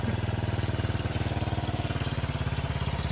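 A 1981 Yamaha SR185 motorcycle with an Ignitech TCI ignition runs steadily close by, its single-cylinder engine thumping in a fast, even pulse with no voices.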